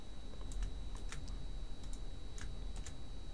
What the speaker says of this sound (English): now I'll type in our comment for our first variable